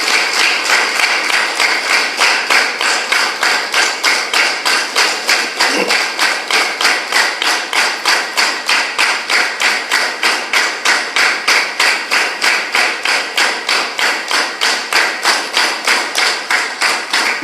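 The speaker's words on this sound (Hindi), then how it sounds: "जोरदार तालियों से एक बार आप अभिनंदन करें।" Audience clapping in unison at a live talk, a fast steady rhythmic beat of many hands that continues throughout, loud and close with no speech over it.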